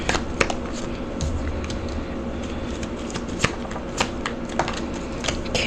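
Tarot cards are shuffled close up in a continuous riffling flutter, with sharp snapping accents as the deck is cut and squared, steady and fairly loud.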